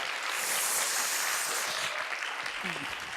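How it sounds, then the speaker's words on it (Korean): Audience at an education gathering in Gwangju giving welcoming applause, a dense, steady wash of many hands clapping, with a voice briefly heard near the end. "여러분 모두를 함께 서로 격려하고 환영하는 박수를 한번 보내주시기 바랍니다."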